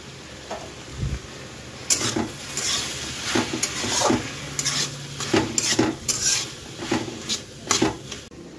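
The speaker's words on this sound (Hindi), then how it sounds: "मसाला का घोल तैयार कर रहे हैं ये मशरूम में डालने के लिए।" Spoon scraping and clinking against a metal bowl while masala paste is mixed for mushroom curry, a steady run of close taps and stirring strokes with no voices.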